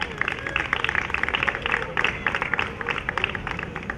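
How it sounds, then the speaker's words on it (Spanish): Rhythmic palmas, fast hand clapping from a group during a bullfighting-style toreo de salón practice session, a dense, continuous patter of claps with voices murmuring underneath. "Vamos a las palmas."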